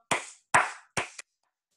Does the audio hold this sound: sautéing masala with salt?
no